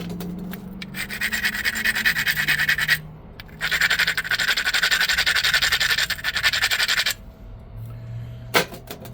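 Rough rhythmic grinding of a stone edge during flintknapping, two long close stretches of scraping strokes separated by a short pause, followed by quieter handling.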